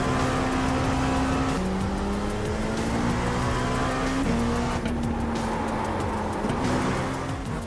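A race car laps Spa Francorchamps in the iRacing sim, its engine droning loud and steady with a few gear shifts as the pitch drops and climbs again, plus faint tyre noise underneath.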